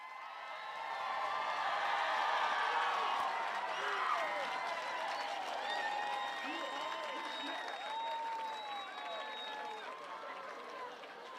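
A graduation ceremony crowd for the Class of 2024 bursts into sustained applause and cheering, rising after the first second and staying loud and dense with whoops and whistles scattered through the clapping.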